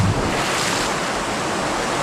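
Waterfalls in the Scottish Highlands near Kinlochleven pour in a loud, unbroken rushing roar, with wind buffeting the microphone throughout.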